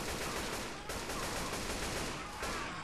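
Rapid, continuous gunfire from Left 4 Dead 2 fills the whole stretch, dense and loud with no pauses.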